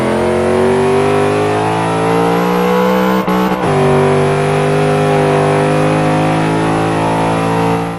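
Race car engine in Forza 5 being driven through fast corners, a loud sustained engine drone at high revs with a brief dip and recovery as the car shifts or lifts, constant and unbroken.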